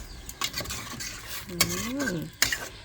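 Spoon stirring Thai mushroom curry with wild puffball mushrooms in a pot of boiling broth, giving scraping clinks and soft bubbling, with a couple of sharper metallic knocks against the pot.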